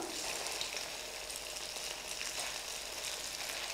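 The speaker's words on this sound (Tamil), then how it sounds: "அடுப்பை கொஞ்சம் சிம்மில் வச்சு இதை ஃப்ரை பண்ணுங்கள்" Pieces of food fry in a pan over a low flame for a lunch box dish, a steady close sizzle that continues evenly throughout with no talking.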